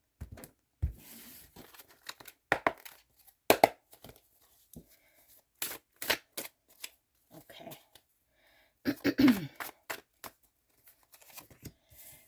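Oversized tarot cards being shuffled by hand, with irregular bursts of papery riffling and slapping, close and fairly quiet, separated by short pauses.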